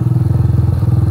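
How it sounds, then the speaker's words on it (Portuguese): A motorcycle ridden by a learner rider, its engine running with a steady rhythmic low throb and pulsing idle-like beat, close and fairly loud, no talk. "Olha só, a moto"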